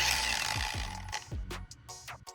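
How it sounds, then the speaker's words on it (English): Hand tightening of an angle grinder's locking nut with a wrench gives a few quick metallic clicks and ratcheting scrapes, close and faint, with no talking. "securing it tightly with the locking nut and a wrench"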